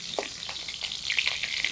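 Potatoes frying in mustard oil in a wok, a steady close sizzle with a few sharp spatters and stirring scrapes over the short stretch, with no talking.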